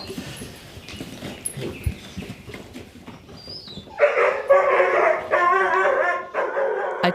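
A working farm dog barking during a livestock training session, a run of loud, close yips and barks following quieter rustling.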